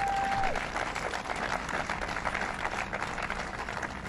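An audience at a civic announcement about redeveloping the former Rainbow Centre mall applauds steadily, a dense even wash of clapping that carries through the whole stretch.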